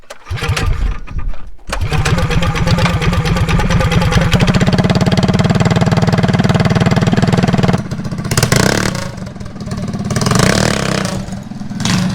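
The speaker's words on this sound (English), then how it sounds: "Revs out, but then it starts slipping." A car engine cranks and catches, then revs high and holds a loud strained whine before dropping and surging again as the transmission slips, with the torque converter overdrive involved.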